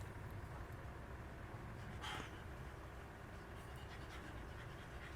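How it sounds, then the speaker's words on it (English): A dog pants steadily in the background, a quiet, continuous breathy rhythm under a low room hum, with one brief louder rustle about midway. "he is doing a lot of panting in the background, if you can hear him"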